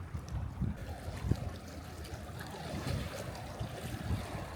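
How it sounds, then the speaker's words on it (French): Strong swell of sea waves rolling onto the Sicilian coast, a steady low rumbling wash with wind noise across the microphone, fairly close and continuous, with no voices. "Et là-bas, on voit les vagues qui arrivent."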